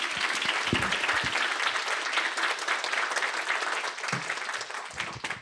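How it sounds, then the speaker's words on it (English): A lecture audience at the 28th Annual BTLJ-BCLT Spring Symposium gives the organiser a round of applause, a loud, continuous wash of many hands clapping that holds steady for the whole stretch before tapering slightly. "So you can give her a good round of applause."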